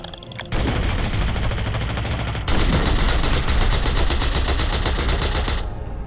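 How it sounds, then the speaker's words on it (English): Sustained automatic gunfire in Hitman: Blood Money, the trigger held down in a loud, dense, continuous stream of rapid shots that grows even louder partway through and runs for about five seconds. "47 just held the trigger down and turned Mark Parchesi into Swiss cheese."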